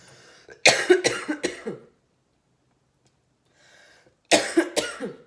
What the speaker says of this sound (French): maintenant je tousse